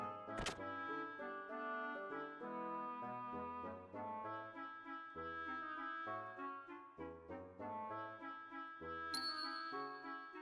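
A small bell rings in the video game Xenogears, a bright chime struck near the start and again late, set over a steady melodic music track with no talk.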